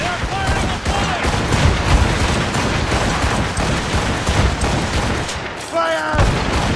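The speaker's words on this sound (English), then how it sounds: "They are firing a volley!" An enemy ship's cannon volley in Assassin's Creed Rogue, a sustained barrage of heavy booms and crackling fire rolling across the sea battle, with a shouted voice breaking through near the end.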